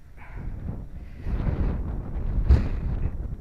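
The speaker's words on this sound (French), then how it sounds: "si vous entendez beaucoup de vent, c'est normal parce que on est en avis de tempête" Strong storm wind in Lorraine, along a disused railway line, buffeting the microphone in low, rumbling gusts that build and thump, loud and unbroken with no voices.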